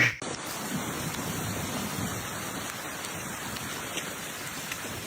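Steady rain falls with a continuous, dense hiss of drops on a surface, even and fairly loud throughout, with no voices.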